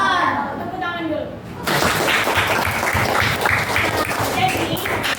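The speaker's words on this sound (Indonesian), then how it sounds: "Tepuk tangan dulu" Classroom children clap together in a dense, steady burst that follows a teacher's voice, filling the room with continuous applause.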